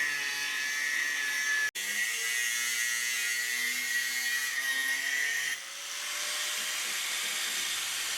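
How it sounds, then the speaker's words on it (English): An angle grinder cuts off an oversized spigot from a radiator on a turbocharged four-wheel-drive Austin Mini build, a loud continuous high whine with a short break, then a lower-pitched run as it bites through the metal. "the job starts with hacking off the oversized spigot with the grinder."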